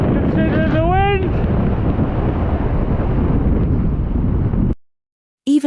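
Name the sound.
strong wind blowing on a mountain while riding an electric BMX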